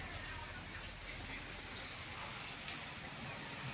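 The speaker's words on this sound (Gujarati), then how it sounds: "અમારે ત્યાં જો બહુ જ વરસાદ ચાલુ થઈ ગયો છે" Heavy rain pours down outdoors in a steady, dense hiss of drops on surfaces, continuous and unbroken, heard alone without talk.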